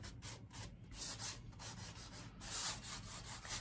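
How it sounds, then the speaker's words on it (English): Light hand sanding of an old metal filing cabinet with fine 180-grit sandpaper, a soft steady rubbing hiss in uneven strokes, close and fairly quiet with no voices. "I'm using a light touch on the sandpaper because I don't really want to mess up"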